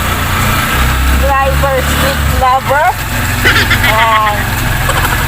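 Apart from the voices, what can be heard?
tricycle engine running during a ride in the rain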